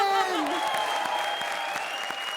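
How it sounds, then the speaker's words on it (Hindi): A comedy show audience claps for an introduced performer, with steady applause running beneath a fading sustained musical tone. "चलो इनके लिए भी ताली बजाओ, जोरदार तालियों"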